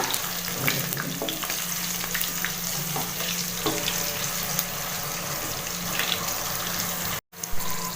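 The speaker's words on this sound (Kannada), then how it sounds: "ಇವೆಲ್ಲವನ್ನು ಒಂದ್ಸರಿ ಚೆನ್ನಾಗಿ ಮಿಕ್ಸ್ ಮಾಡ್ಕೊಳ್ಳೋಣ." Chillies with ginger-garlic paste fry in hot oil for pumpkin rice, a dense continuous sizzle with scattered crackles and light stirring scrapes throughout, close and steady with no voices.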